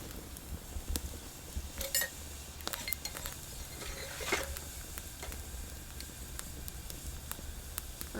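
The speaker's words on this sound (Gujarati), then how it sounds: "આપણે તેલ ગરમ થઈ ગયું છે આ જીરું નાખી દઈએ" Cumin seeds sizzle in hot oil in a pan, heard as a faint, even crackle, with scattered sharp clinks of a metal utensil against the pan.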